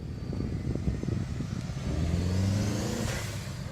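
Engine of an MK4 Jetta fitted with an aftermarket diverter valve, a steady low rumble that swells into a rev near the end, with a rising whoosh and fading tone as it settles, heard close and fairly loud.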